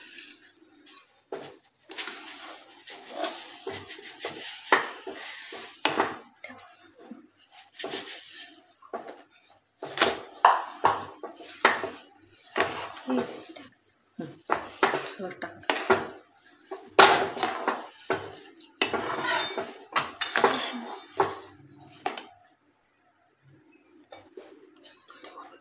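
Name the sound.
stirring sugar into semolina sheera in a pan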